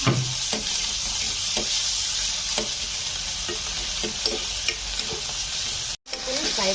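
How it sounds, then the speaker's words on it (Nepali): Chopped tomatoes going into frying onions in a pan for chilli momo, a constant sizzle broken by repeated scraping and stirring knocks, then a brief dropout before the frying resumes. "अब यहाँ प्याज फ्राई भइसकेको छ। अब म यसमा टमाटर दिन गइरहेको छु।"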